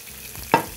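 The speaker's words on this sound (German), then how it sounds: "Und hier haben wir die Pfanne jetzt auf hoher Hitze" Salmon frying in oil in a pan over high heat, with a low steady sizzle that flares into two short, louder crackling bursts, close up and with no talking.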